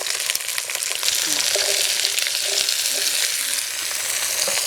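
Garden cauliflower and other vegetables hit a pan of oil with fried coriander, cumin and ginger, giving a loud, steady, crackling sizzle close up with occasional stirring and no talking.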